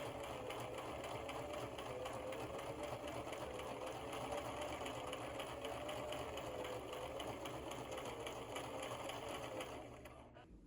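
A sewing machine stitches a quilting line across a padded makeup bag, a steady, quiet whirring hum that runs evenly for several seconds and then winds down at the end.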